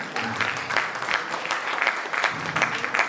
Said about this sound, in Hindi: एक बार तालियों से अभिनंदन